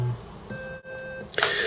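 An Acorn BBC Micro Model B gives its start-up beep, a steady electronic tone held for under a second, clear and close, followed by a burst of broadband noise.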